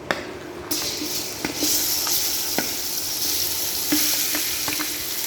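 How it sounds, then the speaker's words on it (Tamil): Chicken for Madurai-style chukka sizzles steadily in hot oil, with a few sharp scrapes and knocks from a spoon stirring it through the pan. "நல்லா அந்த எண்ணெய் எல்லாமே இது மேலே ரோஸ்ட் ஆகிற மாதிரி ஒரு கலர் கிளறி விட்டுலாங்க"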